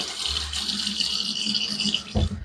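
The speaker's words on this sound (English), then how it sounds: "Get a little water in there." Water is poured and worked into a creamy lather of Savonniere du Moulin Butterscotch shave soap, a close, steady wet trickle and swish that ends in a brief splashy slosh.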